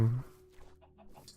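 A chicken in the video game Minecraft gives a few short, soft clucks after a brief louder thump at the start, sounding close but fairly quiet.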